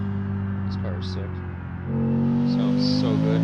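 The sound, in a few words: car engine in a video game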